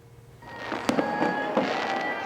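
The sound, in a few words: fireworks exploding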